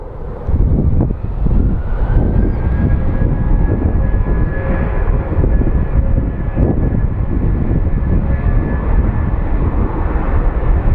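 American Airlines jet rolling for takeoff at Phoenix Sky Harbor, a steady loud engine roar with faint whine, continuous and unbroken, with wind buffeting the microphone.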